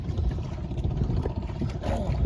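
A fishing boat engine runs steadily with a low rumbling drone and some water noise, fairly close and continuous throughout.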